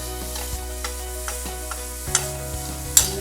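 Coconut and cardamom filling stirred in a pan for sweet kozhukattai, a soft sizzle under rhythmic scraping strokes about every half second, close by and with no talking.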